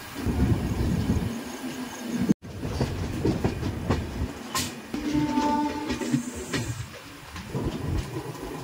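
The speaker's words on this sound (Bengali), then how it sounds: "আমাদের ট্রেন এই জাস্ট পুরী স্টেশনে ঢুকছে" Puri Duronto Express, train 22201 from Sealdah, rolling into Puri station, heard from on board: a steady rumble and rattle of the carriages with a brief dropout partway through and no talking.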